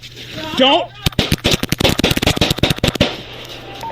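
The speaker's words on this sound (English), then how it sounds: "shots fired" Police officers fire a rapid, dense volley of loud gunshots in close succession for about two seconds, preceded by a shouted voice and ending in a quieter tail.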